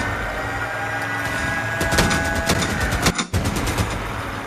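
Rapid machine-gun bursts rattle from the vehicle combat game Crossout, loud and continuous with dense repeating shots over a droning engine and a brief break near the end.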